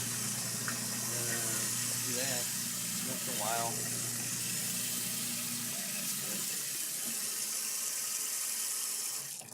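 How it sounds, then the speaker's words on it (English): Kitchen sink faucet runs water in a steady, loud gush next to a garbage disposal, while someone talks over the running stream. "So I usually turn the water on like that, then hit the garbage disposal"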